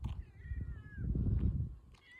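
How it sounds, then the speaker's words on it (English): A cat meows nearby, one drawn-out meow followed by a shorter one, over low rumbling background noise. "there's the kitty. See the kitty. Meow."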